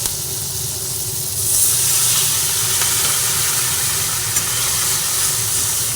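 Water splashed into a pan of salted vegetables frying for a light rohu fish curry sets off a loud steady hiss that swells after a moment and keeps boiling close up.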